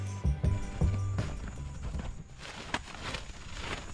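Horses' hooves clip-clop at a walk, several close strikes at the start, with a whinny-like tone and softer footfalls continuing beneath a rustling outdoor background.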